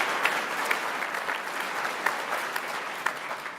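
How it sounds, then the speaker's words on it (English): A room of attendees at an HHS tech policy event gives a quick, steady burst of applause, a dense even patter of many hands clapping with a few sharper claps standing out. "But just a quick clap for Cannon."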